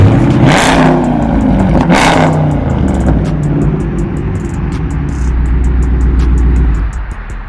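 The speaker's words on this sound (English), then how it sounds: "that's the active exhaust making that noise" A Dodge Challenger or Charger Scat Pack engine idles and revs nearby, with a low rumbling exhaust, rattling and squeaky clatter from a faulty active exhaust over the drone.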